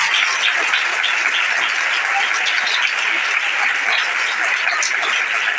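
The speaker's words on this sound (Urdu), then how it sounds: "زوردار تالیاں میرے خدا کو سلام" A church congregation at an Urdu-language sermon on fasting breaks into loud, sustained applause, a dense, even wash of clapping that holds steady throughout without any pause.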